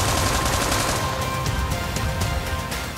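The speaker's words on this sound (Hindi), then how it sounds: "3 नवंबर 4:10 वजीराबाद में इमरान खान पर 3 अतराफ से गोलियां चलती हैं।" Gunfire from several directions during a shooting attack on a political figure at a rally in Wazirabad, Pakistan; a dense, continuous burst of shots and crowd commotion fills the whole stretch at steady loudness.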